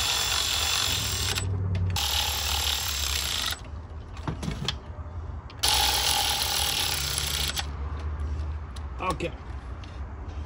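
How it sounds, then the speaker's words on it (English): Two loud bursts of an electric ratchet whirring as it runs spark plugs down their threads on a 2003–2016 Honda CR-V engine, with quieter mechanical clicks and handling between the runs. "we're gonna run them down with the electric ratchet"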